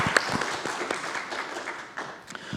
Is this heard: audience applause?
yes